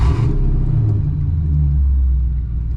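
Straight-piped 2003 Ford Mustang GT engine starting, a brief crank burst giving way to a loud, deep rumbling idle that holds steady close by, with no talk.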